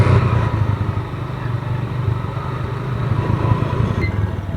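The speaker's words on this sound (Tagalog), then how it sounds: "yun lang yung tunog ng motor mo" A motorcycle engine drones steadily up close, a low rumbling hum with wind noise, no talking.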